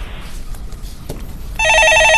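A telephone on a radio show rings loudly for an incoming call, a bright electronic trill that starts abruptly after a short stretch of quiet background.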